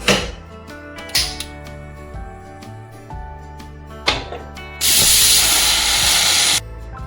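A pressure cooker boiling black chickpeas lets out a loud, sustained rush of steam lasting nearly two seconds, set against background music and a few earlier clacks.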